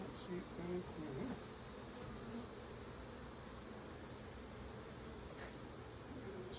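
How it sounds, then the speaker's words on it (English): Bees hum around an opened hive outdoors, a faint continuous buzz spread over steady background hiss, with a few brief louder passes near the start. "I see pollen on bees."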